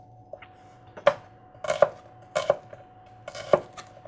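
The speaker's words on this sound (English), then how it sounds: "slicing the onion." Knife cutting through an onion on a cutting board, several distinct crisp thuds and crunches at uneven intervals, close and fairly quiet.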